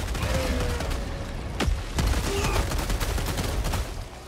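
Weapon fire from the video game Helldivers 2 crackles in dense bursts, with sharp individual shots standing out over a constant roar of combat noise, close and loud throughout.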